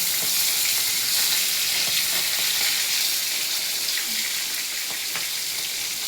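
Fish frying in a pan in the oil released from its own flesh, a steady, loud, even sizzle and crackle running throughout with no talking.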